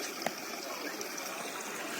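Steady rush of water gushing from a borewell pipe, a continuous gushing stream with a faint splash near the start.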